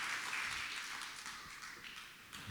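A church congregation clapping hands in praise, a continuous wash of many hands applauding together at moderate distance with no voices over it.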